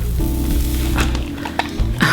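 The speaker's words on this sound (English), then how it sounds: "hear the hair sizzling a little bit" A steady hiss of 4C natural hair sizzling under a hot straightening brush set to 160 runs throughout, with faint scraping strokes and light clicks on top, close up and constant.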